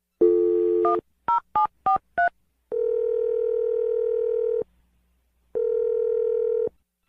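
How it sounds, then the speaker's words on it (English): A telephone dial tone followed by a quick series of five DTMF keypad beeps as a number is dialed, then two long ringback tones separated by a pause, clear and close with no talking. "I'm going to dial the number right now."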